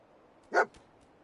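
A single short bark from Dogmeat the dog in Fallout 4, close and clear against quiet background hiss.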